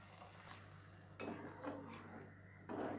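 Wheat payasam with jaggery, cashews and raisins being stirred in a pot, a soft scraping rhythm with a few louder spoon knocks against the metal over a steady low hum, no talking.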